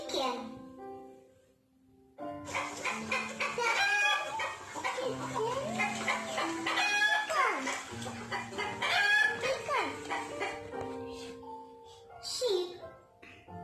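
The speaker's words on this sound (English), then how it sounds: "Chicken." Chicken clucking and a rooster crowing repeat through most of the stretch, fairly close, with a voice in among the calls.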